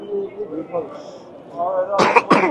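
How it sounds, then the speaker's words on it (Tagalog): Two sharp coughs burst out close by near the end, following a stretch of quiet talk. "Ubo kasi ito ng ubo"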